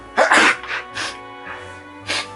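A person sneezes up close, one sharp, loud burst followed by a few softer breathy huffs and sniffs.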